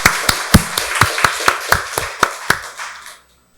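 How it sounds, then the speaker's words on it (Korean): Church congregation at a Sunday service clapping in a steady rhythmic beat, about a dozen sharp claps in a row, close and loud, then stopping abruptly into silence. "박수로 하나님께 영광 돌리겠습니다."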